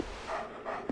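Dogs in the video game Dark Souls 2, a brief pair of growling, panting yelps heard close and moderately loud with no talking.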